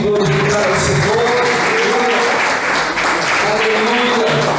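A church congregation applauds during a sermon, with continuous dense clapping and a voice speaking or calling out over it.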